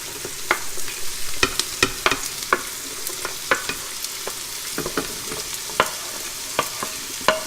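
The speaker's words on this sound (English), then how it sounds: "I'm going to start adding my mirepoix and peppers" Diced mirepoix and peppers sizzling in a hot soup pot, a steady close frying hiss broken by frequent scraping stirs of the spoon, with no voices.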